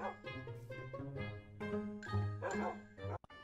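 A Minecraft dog from the cachorro mil grau meme gives a few short yipping barks and whimpers in quick succession, close and fairly quiet.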